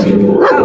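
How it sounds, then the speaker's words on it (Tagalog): A single loud, close dog bark, short and sharp. "Ay, may aso."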